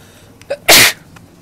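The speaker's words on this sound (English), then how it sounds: "That was a good sneeze." A single loud, sharp sneeze, preceded by a brief intake of breath and followed by near silence.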